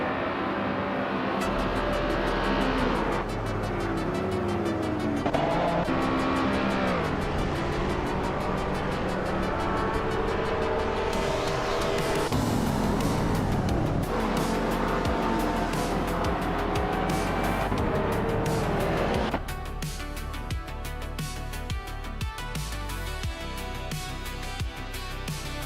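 Race cars on a victory lap in a racing video game, engines roaring steadily at high revs with shifting pitch as they pass, loud and continuous with no talk.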